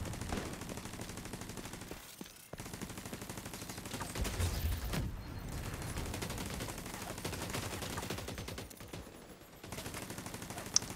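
Gunfire in the video game The Division 2, a sniper rifle among the shots, over a dense, continuous wash of game combat noise without any clear speech.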